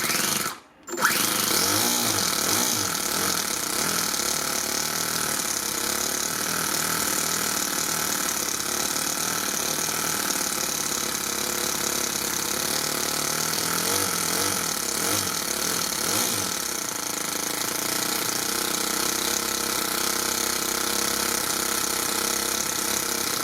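A Toyan FS-S100G miniature four-stroke RC engine fitted with a starter motor runs steadily, a close, continuous buzzing drone after a brief cutout at the start, with faint shifts in pitch along the way.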